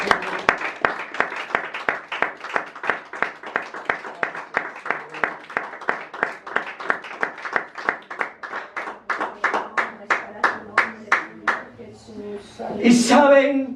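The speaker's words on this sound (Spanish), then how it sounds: "Pueden darle un aplauso." A church congregation claps in tight unison, a long run of evenly spaced, crisp handclaps that loosens near the end before a brief burst of voices and noise.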